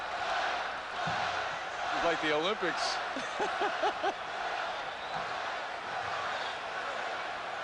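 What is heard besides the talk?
basketball arena crowd chanting Spud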